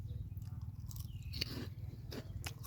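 A snack is bitten and chewed up close, with a few soft crunches and mouth sounds over a steady low hum outdoors.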